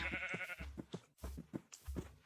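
A Minecraft sheep bleats repeatedly and close, in a quick run of wavering, nasal cries with short gaps between them.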